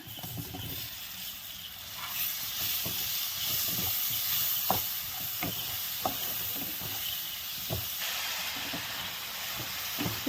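Chopped tomatoes sizzle in a pan with fried onion, turmeric, salt and red chili for a boal fish curry. A steady, close hiss continues throughout, with a few soft clinks and taps.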